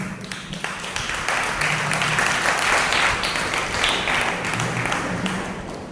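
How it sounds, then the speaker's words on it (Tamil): Church congregation at a night vigil clapping together, a steady wash of applause lasting several seconds, fairly close and full, with faint voices beneath. "கைத்தட்ட பார்த்தீங்களா?"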